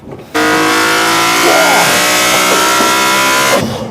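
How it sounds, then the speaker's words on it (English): BMW E46 M3 engine running loud and steady, a rich harmonic drone with a brief rising rev in the middle, starting abruptly and cutting off near the end. "This is such an unbelievable engine"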